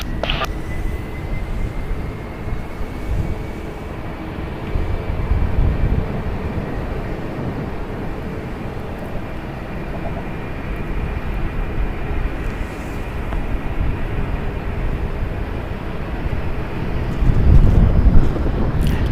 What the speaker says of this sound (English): Delta Airlines Flight 1384 going to Minneapolis. It's a Boeing 757-200, 31 years old.